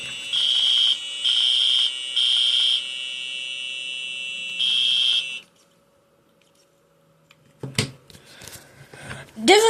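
A school fire alarm sounds in loud, piercing, high-pitched electronic bursts that repeat roughly every second, then stops, followed by a few seconds of near silence and then scattered clattering noises and voices.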